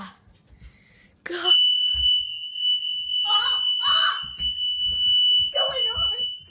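A fire alarm sounding during a test holds a loud, steady high-pitched tone, while people nearby talk and exclaim over it.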